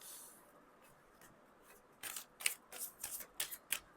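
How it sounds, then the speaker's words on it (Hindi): Tarot cards are drawn and handled in a quiet room: a run of soft, papery swishes and slides, about eight close brushing strokes in the latter half, faint and without talk. "थोड़े से और कार्ड्स ले लेते हैं"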